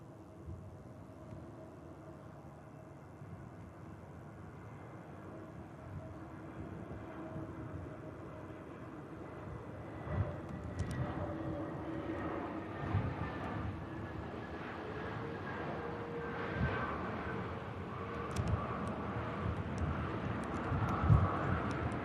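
A Scandinavian Airbus A320neo lands at Manchester Airport, a distant jet roar slowly building and swelling over twenty seconds, steady and broad rather than sharp.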